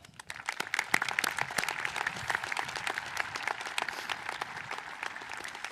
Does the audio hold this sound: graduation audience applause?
yes